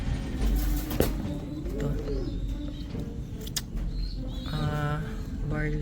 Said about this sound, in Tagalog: Ice pigeon yan.